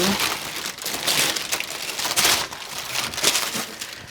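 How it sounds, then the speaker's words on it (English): Fabric being cut for a pair of pajama pants drafted for a larger body, a steady run of close, crisp scissor snips and papery crinkling rustle with no talking. "cut the fabric something like that"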